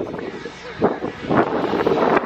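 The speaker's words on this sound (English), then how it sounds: "it's windy, so you probably can't hear me right now" Gusts of wind buffet the microphone at a beach in low, uneven rumbles that swell and fade, with muffled voices partly masked beneath.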